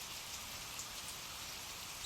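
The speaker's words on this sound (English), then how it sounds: "Standing in the rain," Steady rain falls all around, a dense, even hiss of drops that holds without pause and swells slightly at the very end.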